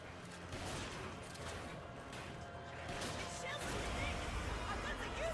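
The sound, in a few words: gunfire shooting the U8 in Resident Evil 5 video game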